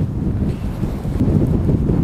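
Steady wind buffeting the microphone outdoors on a golf course, a continuous low rumbling roar with no pauses and no voices.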